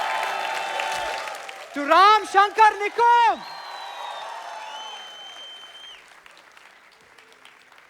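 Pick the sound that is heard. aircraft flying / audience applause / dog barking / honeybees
audience applause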